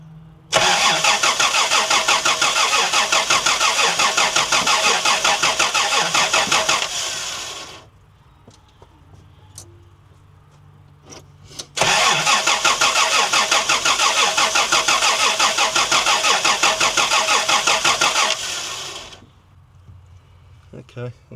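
A 1990 Toyota LandCruiser with a big six-cylinder engine, left sitting for years, cranks over steadily without firing in two long loud bursts of rhythmic starter churning separated by a quiet pause.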